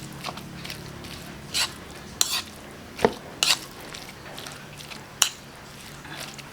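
Pork hash filling for siomai being mixed with cornstarch in a bowl: scattered clinks and scrapes of a utensil against the dish, about half a dozen sharp knocks spread over a quiet background.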